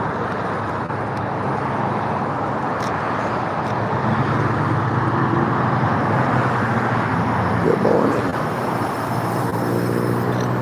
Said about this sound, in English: that traffic, look, it's backed up nearly all the way to the top of the bridge